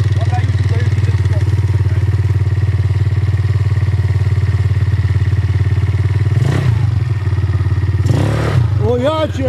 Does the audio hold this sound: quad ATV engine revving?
yes